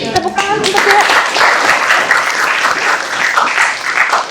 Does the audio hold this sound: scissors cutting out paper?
no